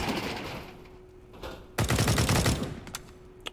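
Gunfire in a competitive online shooter match, a tournament group stage: a few scattered shots, then a dense automatic burst with rapid shots rattling together, moderately loud with no voice over it.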